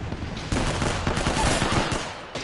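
Sustained automatic gunfire in the video game Apex Legends, a dense rapid burst that starts abruptly and rattles on loud and close for about two seconds, with no talk over it.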